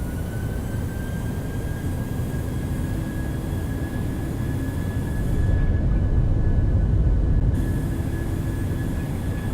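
Qantas airliner engines in Microsoft Flight Simulator spooling up for takeoff, a steady broadband roar with a thin high whine that swells louder partway through and holds, no talk over it.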